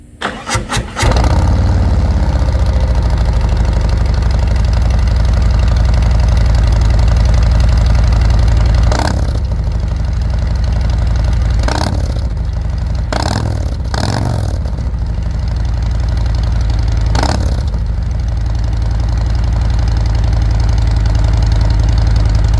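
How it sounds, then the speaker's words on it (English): A 2024 Harley-Davidson Road Glide fitted with Rinehart DBX45 exhaust fires up loudly and settles into a deep, lumpy V-twin idle close by, with a few brief throttle blips partway through. "I'm going to do the first startup here with the DBX45s on. We're going to see how different they sound compared to the 40s."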